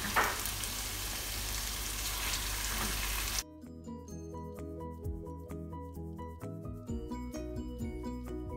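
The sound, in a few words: spices being sautéed in a pan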